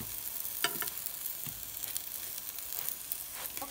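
Eggplant slices fry in oil in a pan, a steady close sizzle and crackle with scattered sharper pops, no talking.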